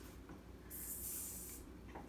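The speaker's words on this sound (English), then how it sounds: "It's fizzing up." A drink fizzes up in a close, steady hiss that swells and holds for about a second before fading, with no talk over it.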